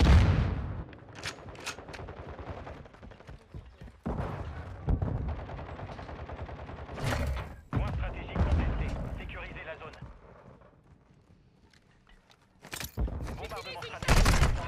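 Bursts of rapid automatic gunfire and single shots in Call of Duty: Modern Warfare II multiplayer, loud and close, coming in repeated volleys with short gaps and some quieter stretches.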